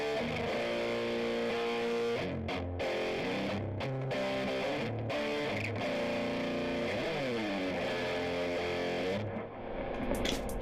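An electric guitar runs through a distortion pedal for a rock tone, with sustained, gritty chords and ringing notes that play steadily and alone, close and moderately loud.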